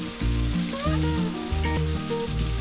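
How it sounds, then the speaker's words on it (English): Chopped onion fries in hot oil in a pan with a steady hiss of sizzling, partly overlaid by a tonal melody that runs throughout the short stretch. "fry the onion until it is nice and soft"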